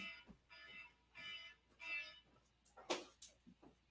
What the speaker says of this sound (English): That's my alarm clock, by the way.